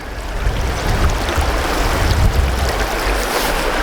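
The Gweebarra river rushes close by in a dense, continuous roar of moving water, loud and steady, with no voices.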